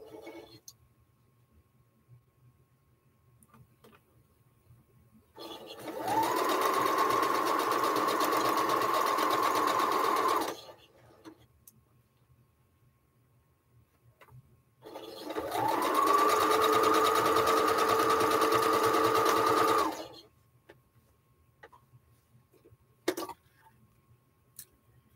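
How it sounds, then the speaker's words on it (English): Sewing machine stitching a quilt block, two sustained runs of steady mechanical whirring, each about five seconds long, separated by quiet pauses with faint handling noises. "I'm on my last sew, Kathy."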